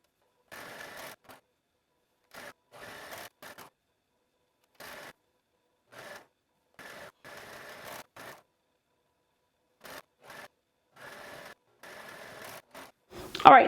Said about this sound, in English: we're going to head to our sewing machine